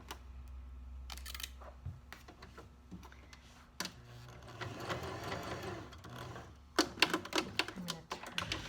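A sewing machine stitches a patch on worn sweatpants in short, quiet bursts of rapid mechanical rattling, broken by clicks and pauses, then a louder run near the end.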